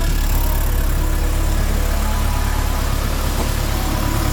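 A 1993 Toyota Previa's engine idles steadily on a cold day, a smooth, quiet, even rumble with a constant low hum and no break throughout.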